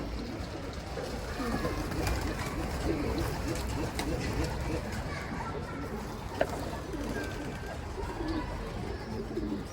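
Pigeons coo softly outdoors while scattered feed draws a runaway bird down, low murmuring calls blended into steady ambient noise with occasional voices and one sharp click.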